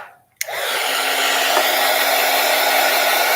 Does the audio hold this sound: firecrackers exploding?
no